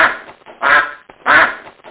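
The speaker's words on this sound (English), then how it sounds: "Duck." Three loud, raspy duck quacks close by, evenly spaced about half a second apart, each a short nasal burst with nothing else audible.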